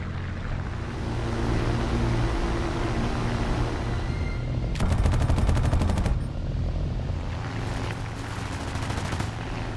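Rapid machine-gun bursts from a Brewster fighter plane rattle out over a continuous roaring engine drone, with one long burst followed by a shorter one.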